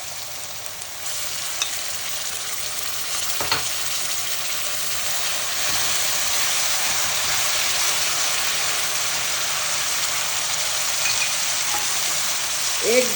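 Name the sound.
yogurt added to frying onions in a pan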